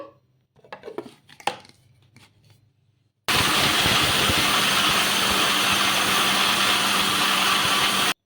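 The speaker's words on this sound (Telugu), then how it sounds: "మెత్తగా మిక్సీ పట్టేసుకోవాలి" A kitchen mixer grinder grinds batter for a quick breakfast dish, starting with a sudden loud, steady whirring roar after a few seconds of quieter handling clatter, then running continuously and close until it cuts off at the end.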